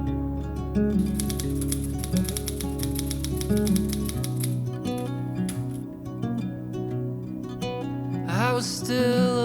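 An old typewriter being operated, with a rapid run of crisp key strikes close up, then a pause and a ratcheting carriage or bell-like sweep near the end, heard alone without talk.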